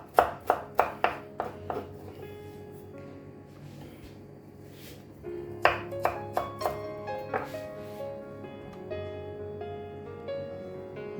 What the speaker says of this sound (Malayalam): ഞാൻ എളുപ്പപ്പണിക്ക് എല്ലാം കൂടി ചോപ്പറിലിട്ട് ഒന്ന് ചോപ്പ് ചെയ്തെടുക്കുകയാണ്